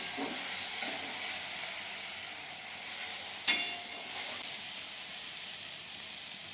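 Spices hitting a pan of softened frying tomato and onion in a home kitchen, giving a steady sizzle and hiss with a single sharp clatter partway through.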